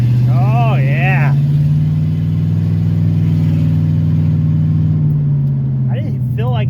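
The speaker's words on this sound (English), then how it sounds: "It sounds better without the exhaust dragging." A 1971 Plymouth Satellite wagon engine runs at a steady, loud mid-range drone, rising slightly then settling, with exhaust no longer dragging; brief voice-like tones surface near the start and end.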